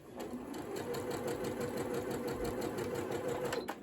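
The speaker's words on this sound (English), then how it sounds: "my sewing machine will start to stitch. It'll start out at a medium speed and then go up to whatever I have it set to." A Janome Memory Craft 8200 QCP sewing machine stitching at medium speed, a steady, fast mechanical whirring hum with a rapid clicking rhythm, close and continuous.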